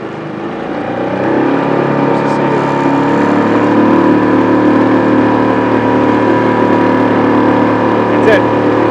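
An outboard motor mounted on a drift boat, offset slightly to the left of the stern, drones loudly and steadily on the water, rising in pitch as it comes up to speed, with a voice talking over the engine noise.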